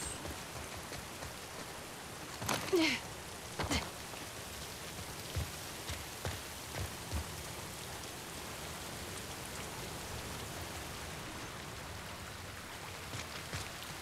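Steady rain in The Last of Us Part II patters on a surface throughout, with scattered louder drips and a couple of sharp knocks early on.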